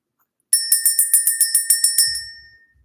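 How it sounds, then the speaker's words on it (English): A small bell is rung for clearing energy, struck in a quick, even series of about ten bright metallic rings that then fade into a ringing decay, loud and close with no talk. "we're going to ring the bell, clear the energy"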